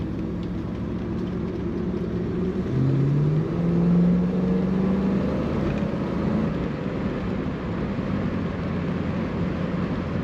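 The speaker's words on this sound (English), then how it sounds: "Very fun car to drive, an iconic car from the 80s" A 1989 Chevrolet Camaro convertible cruising on the road, its engine holding a steady low drone with a brief swell of revs near the middle, heard from inside the car with no talking.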